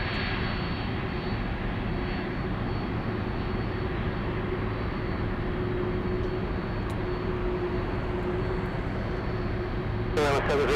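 Aircraft engine drone at an airport runway where Boeing 747 and 777 airliners operate, a steady, continuous low roar heard from a distance with radio-style talk over it.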